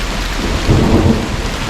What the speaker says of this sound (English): Oh, there's the thunder over there.